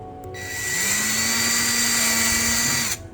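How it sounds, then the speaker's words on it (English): A power drill whirs steadily for about three seconds while drilling pilot holes to mount a light, spinning up with a high whine and a low motor hum, close and loud, no voices. "we're gonna put the light in to drill the 3 pilot holes"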